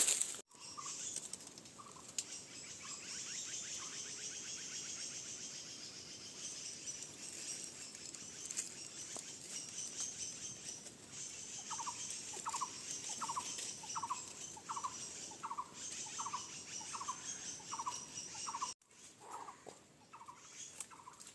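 Many birds call at once in a dense jungle chorus, with high continuous chirping and a repeated run of short, evenly spaced calls near the end.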